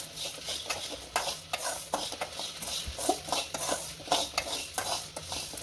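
Asafoetida powder being roasted in a kadai gives off steady, rhythmic scraping strokes of a spatula against the metal. A soft frying hiss runs underneath, close and moderately loud.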